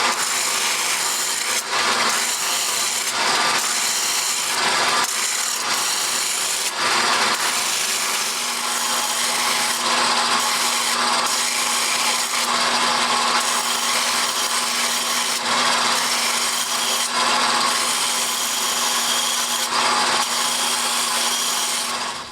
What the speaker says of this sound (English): I just sort of freehand it with the disc sander